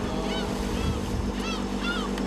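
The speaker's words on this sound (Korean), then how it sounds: "점점 파도 세지고 있다고요?" Rough sea waves and wind wash steadily around a squid-fishing boat on the West Sea, a constant close roar with a few faint bird-like calls.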